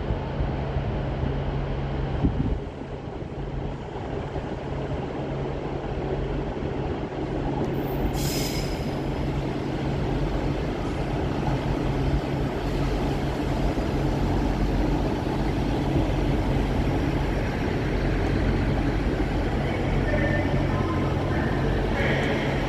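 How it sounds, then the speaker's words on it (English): Northern class 158 diesel unit 158795 from Doncaster arrives to terminate at Hull Paragon station, a steady rumble of wheels and engine for over twenty seconds with a brief high squeal partway through, fairly close with no talk. "Arriving next to terminate with a northern service off of Doncaster is 158795."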